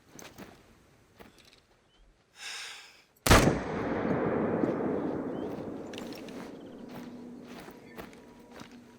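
A hunting rifle fires at an animal in theHunter: Call of the Wild, one sharp loud crack after soft footsteps, followed by a long rolling echo that fades through the open landscape.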